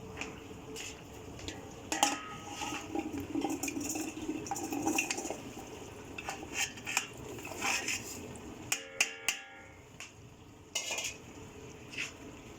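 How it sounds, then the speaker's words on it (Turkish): Washed cornelian cherries patter and clatter into a metal pot, with scattered clinks and taps against the rim over a steady kitchen background. "Yıkayıp süzdürdüğümüz kiremlerimizi tenceremizin içerisine boşaltıyoruz."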